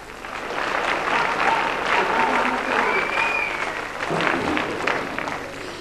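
Concert audience applauding a singer after her song, a loud, sustained wave of clapping from a large crowd with some voices and cheers mixed in.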